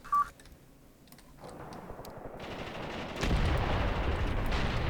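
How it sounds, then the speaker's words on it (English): Incendiary artillery shells land in the tactical war game Graviteam Tactics during a foggy battle: a brief electronic beep, then a building low rumble that breaks into a heavy, sustained roar of fire and impacts, with no talk. "Ah, the incendiary is landing."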